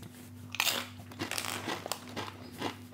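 Doritos Dippers Smoked Paprika crisps crunched close to the mouth, with a burst of crisp, crackly bites and chewing that comes in uneven clusters.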